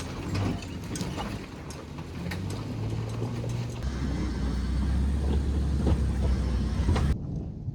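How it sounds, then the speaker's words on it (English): A car climbs a mountain road toward a trailhead, its engine droning low under a busy rattle and clatter of the cabin and gear. The sound is steady and close, shifting pitch midway, then cuts off sharply near the end. "Right now we're driving up the road."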